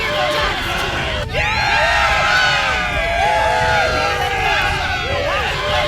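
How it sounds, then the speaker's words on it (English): A crowd in the Borderlands 3 video game cheers for Titus, a loud continuous roar of whoops and shouts with overlapping voices and babble, rising after a brief sharp hit early on. "Let's have a cheer for Titus."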